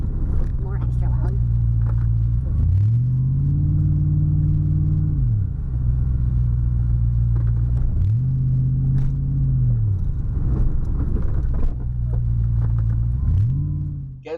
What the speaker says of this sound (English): This truck was straight pipe, so it was already loud to begin with, and now it's even more extra loud